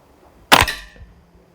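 A Walther Reign MK 2 bullpup air rifle fires one close, sharp shot with a brief ringing tail, in a quiet setting with no talk.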